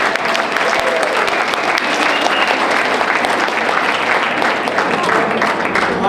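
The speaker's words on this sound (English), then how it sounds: "Big round of applause for all of our students and Mr. Kevin." Sustained, dense applause from an audience at a school performing arts showcase honoring student performers, loud and steady throughout with no break.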